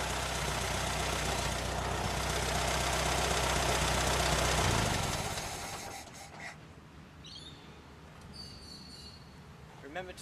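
A loud, rattling Ford Model T engine runs steadily, then cuts out, leaving quiet background with faint chirps and a few small knocks.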